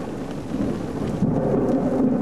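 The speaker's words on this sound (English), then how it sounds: "Rain's coming down super heavy now." Heavy rain pours steadily during a severe thunderstorm with hail, a loud continuous wash of downpour with low thunder rumbling beneath it, close and unbroken throughout.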